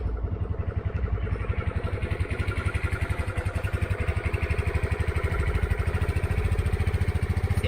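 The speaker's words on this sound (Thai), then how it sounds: "เดี๋ยวเรามา ลองสตาร์ทฟังเสียงกันดูนะฮะบบีบเบรกแล้วกดสตาร์ทได้เลย" GPX Drone keyless scooter with a stock, unmodified exhaust starts up and settles into a steady idle, a close, even putter with a rapid regular pulse throughout, no talking.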